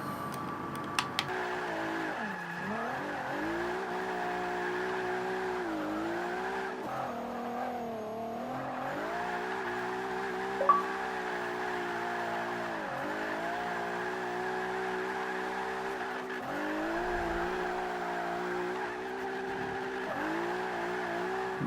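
A Nissan R35 drift build in Forza Motorsport 5 holds a sustained, droning engine note that rises and dips with throttle, with tire squeal layered through a long continuous slide and no voices over it.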